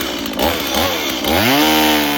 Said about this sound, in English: get my chainsaw, get this cut up